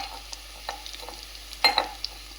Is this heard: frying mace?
yes